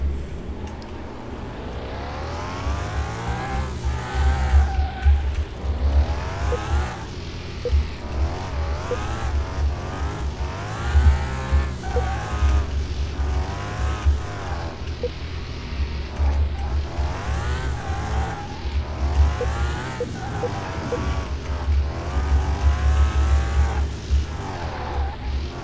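A Ferrari 250 GTO V12 from Car Mechanic Simulator 2021 drives a test track, its engine revving up and down in repeated sweeps with gear changes, loud and steady throughout with no voices.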